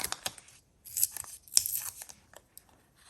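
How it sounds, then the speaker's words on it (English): Paper being torn by hand for a mixed-media junk journal tag, a string of close, crisp rips and crinkles in uneven bursts separated by brief pauses. "So I'm going to tear this"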